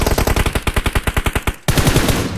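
Machine gun fire in PUBG Mobile: a rapid burst of about fifteen sharp, evenly spaced shots, a brief pause, then a heavier blast with a lingering rumble.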